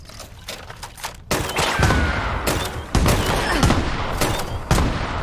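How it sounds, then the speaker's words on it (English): Grenade launcher explosions erupt in Fallout 76 Daily Ops combat, a quick run of loud close blasts and crackling gunfire that starts sharply and keeps rolling densely to the end. "Random grenades flying out everywhere."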